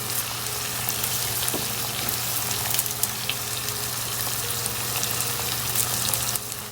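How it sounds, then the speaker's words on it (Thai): Curry paste stir-fried with coconut milk and salmon oil in a pan gives a steady, close sizzle that runs throughout, with a low hum beneath it and a few faint scrapes of stirring. "ผัดเครื่องแกงกับกะทิให้หอมก่อน"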